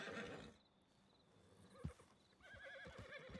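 A horse in Red Dead Redemption II whinnies loudly up close, then after a quieter gap comes a sharp thump followed by another rising neigh and hoof clatter.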